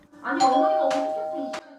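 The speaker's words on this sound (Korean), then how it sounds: "누군가 그녀를 부르는 초인종 소리가 울립니다" A doorbell rings with a bright two-tone chime, clear and fairly close, then falls quiet.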